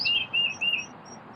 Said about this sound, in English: Yeah, listen to those birds.